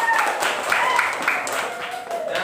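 A classroom of second-grade schoolchildren at an Islamic primary school clapping their hands together, a dense burst of applause with children's voices calling out over it.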